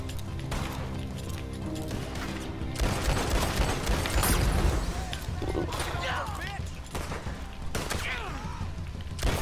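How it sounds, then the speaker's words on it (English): Gunshots blasting apart moonshine barrels in the Red Dead Online video game, with sharp cracks and breaking wood over a steady game score and ambient din, the loudest burst in the middle. "All the three barrels. You just have to shoot them a couple times."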